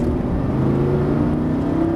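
A Lamborghini Gallardo LP560-4 accelerates hard on a circuit, its engine a loud, sustained, rising drone close by, filling the whole stretch with no talk.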